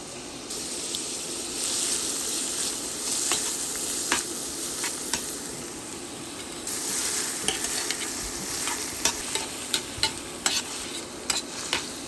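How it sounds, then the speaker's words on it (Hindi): Chopped medium onion sautés in a pan, a steady soft sizzle broken by scraping stirs and clicking spoon taps that grow more frequent toward the end. "अब डालेंगे एक मीडियम साइज कटा हुआ प्याज और अच्छी तरह से इसको भून लेना है।"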